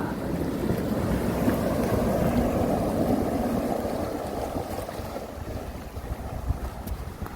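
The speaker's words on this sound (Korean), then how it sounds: "네, 물 속을 달리고 있습니다." A Jeep pushes through water at an event course, giving a continuous rushing, churning wash with heavy wind-like rumble that swells and eases without pause.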